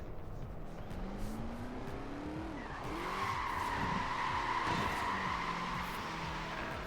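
A car drifting in the racing game Forza Horizon 4, engine droning with gliding pitch shifts and a sustained tire squeal that swells midway, steady and loud with no speech.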